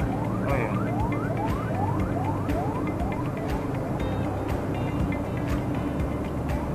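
A police car siren wails on the road, a repeating rising sweep heard moderately loud over the steady engine and road noise of a Suzuki Dzire AGS 2019 in third gear.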